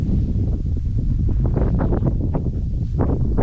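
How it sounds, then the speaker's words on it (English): Gusty wind buffets the microphone over a freshly harvested bean field, a steady loud low roar with rising and falling gusts and no voices. "Sorry if it's kind of windy here."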